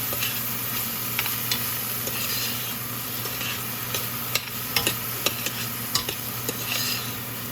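A spoon stirring melting ghee in a pan for lentil spinach curry, with a soft steady sizzle and occasional light scrapes and taps of metal against the pan.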